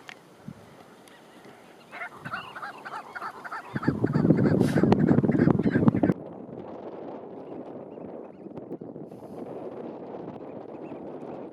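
Fluttering shearwaters call in harsh, honking bursts close to a kayak on the water, loudest for a couple of seconds mid-way, with steady wind rumble on the microphone throughout.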